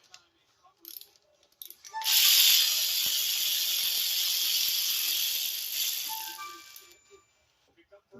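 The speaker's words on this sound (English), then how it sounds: "We're taking out all the valve cover bolts so we can pull this valve cover off of here" A ratchet loosens valve cover bolts on a 2008-2012 Chevy Malibu engine, a steady close whirring rattle of the pawl running for several seconds after a few short clicks, with brief handling noises at either end.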